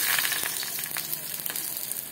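Leaf-wrapped bhetki fish parcels, tied with thread, sizzle in hot oil in a kadai, a loud steady hiss with small crackling pops throughout, close up and with no talk.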